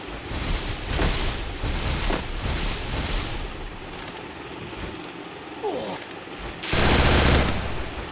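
Rapid bursts of automatic gunfire from the Free Fire battle-royale game, loud and dense across the clip, with a final heavy burst near the end and faint background game ambience.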